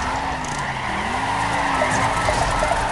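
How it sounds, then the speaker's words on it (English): Tires squeal in a sustained skid as a car spins a donut in the Torque Burnout driving game. The screech is loud and continuous, with the engine droning underneath. "We got the handbrake turn there. Give me the donut."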